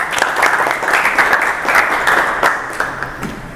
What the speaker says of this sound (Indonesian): Boleh tepuk tangan untuk Diki.